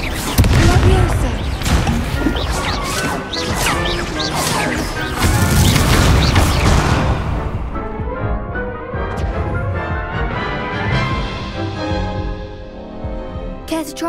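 Confringo spell blasts in Hogwarts Legacy, a fantasy video game: a dense run of loud booming explosions and crashing impacts for about seven seconds, then fading into a softer ringing musical tail with a few faint hits.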